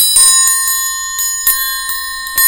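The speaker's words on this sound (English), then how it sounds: "who could forget the dinner bell?" A dinner bell rings out loud and clear in repeated bright strikes, each one leaving a sustained metallic ring that carries through the whole passage, with no voices present.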